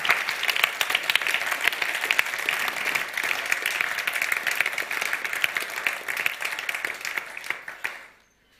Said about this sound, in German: Großen Applaus für ihn.